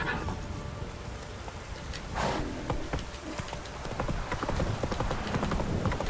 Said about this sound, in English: This is now Rocher. Giddy up